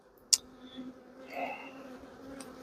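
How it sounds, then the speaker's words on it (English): Honeybees buzz faintly around an open hive, a thin, wavering drone broken by a sharp click near the start, with low background noise and no speech. "I don't want bees to be flying at the microphone"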